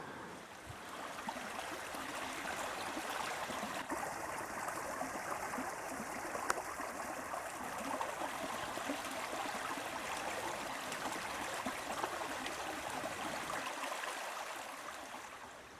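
A creek in a wooded creek bottom on public land flows steadily with a soft broadband babble and trickle, continuous and moderately faint, with no voices.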